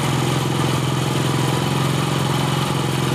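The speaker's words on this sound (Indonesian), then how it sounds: "Jadi cari putaran mesin yang paling tinggi ya" A Honda Astrea Grand motorcycle engine idles steadily during carburetor tuning, a loud, close, even putter with a faint mechanical clatter and no talk.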